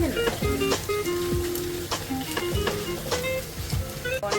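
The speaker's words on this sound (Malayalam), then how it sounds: "ഇഞ്ചി വെളുത്തുള്ളിയാണ് ഇടുന്നത്." Ginger and garlic frying in a pan for king fish curry, a steady close sizzle with scraping stir strokes and clinks, background music tones running underneath throughout.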